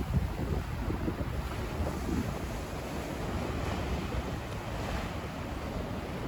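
Stormy sea waves crashing against the Yalta embankment at night, a continuous dense roar of surf mixed with heavy wind buffeting the microphone, loud and close, with no voices.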